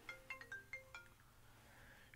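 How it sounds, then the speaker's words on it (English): A phone ringtone chimes in a quick run of bright electronic tones, fairly faint, with no talking over it. "And my phone's ringing."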